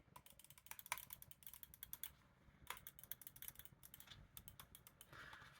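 Button clicks from a Logitech Superlight 2 Dex gaming mouse, a series of quick, faint, sharp clicks in uneven bursts and rapid runs, heard close up with no talking.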